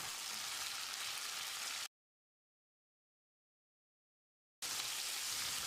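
Sizzling of tomatoes sautéing in a pan, a soft crackling hiss that cuts out to silence midway, then resumes.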